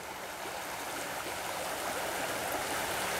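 Frog Creek rushes strongly with melting snow, a steady broadband roar of flowing water that swells slightly louder, with no voices.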